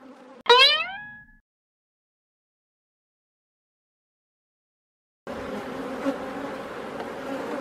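Honey bees buzzing around a hive during rapeseed bloom: a brief close buzz at the start, a pause of silence, then a steady dense hum of many insects.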